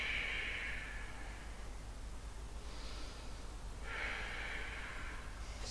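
Slow, audible exhalations through the nose and mouth during a yoga stretch, two long airy breaths rising and fading over steady background hiss, close and unaccompanied by talk.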